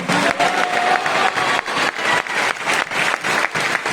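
A church congregation in Chandigarh claps together for Jesus, loud rhythmic group clapping with steady beats and brief dips, close and filling the room.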